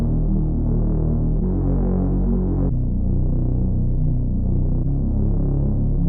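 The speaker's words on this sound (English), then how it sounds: "it's just a Reese bass sound that follows the chord progression" A detuned, throbbing Reese bass in a trap-style beat drones low and loud, shifting pitch with each chord change in long sustained notes, steady and alone without other instruments.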